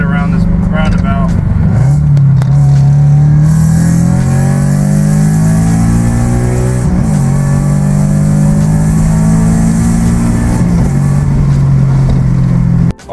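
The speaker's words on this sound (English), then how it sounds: "ready to do a little pull onto the highway." A Scion FR-S running on E85 pulls hard up through the gears onto a highway, its engine note climbing steadily with brief dips at each shift, loud and close from inside the car.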